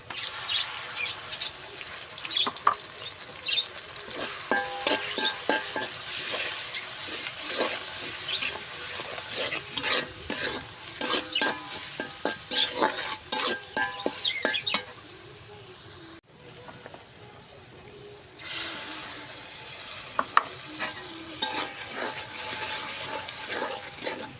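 Beef in a pot with ground ginger, garlic, cumin, chili and salt paste fries with a crackling, popping sizzle and spatula scrapes for about fifteen seconds, then drops to a quieter hiss before the crackle returns; close, no speech.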